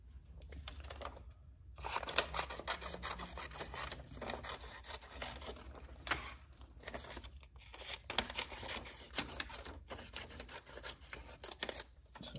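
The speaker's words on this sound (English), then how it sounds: "If you figured out a different way while cutting out the paper" Scissors snipping through yellow paper strips during a children's art lesson, with soft, uneven rustling and tearing cuts repeating close by, broken by a few brief pauses.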